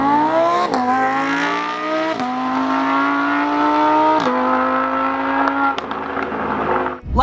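A Lamborghini Huracan engine, redlining at 8,500 RPM, revs hard and loud close by, its rising howl climbing through several gear changes, each marked by a sharp drop before the pitch builds again.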